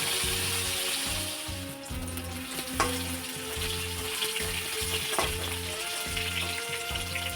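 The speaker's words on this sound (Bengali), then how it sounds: "এদিকে আমার চিংড়ি মাছটা ভাজা হয়ে গেছে" Shrimp fry in a pan with a steady, moderate sizzle, while a repeating low pulsing hum runs through the background of a home kitchen where lentils also cook.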